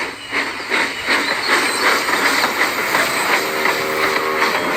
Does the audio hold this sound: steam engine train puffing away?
yes